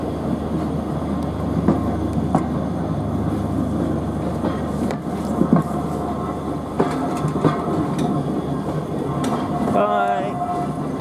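An Isle of Wight Steam Railway train pulls away from Smallbrook Junction, carriages rumbling with clickety-clack wheel beats and occasional sharp knocks, heard close and steady while people talk nearby.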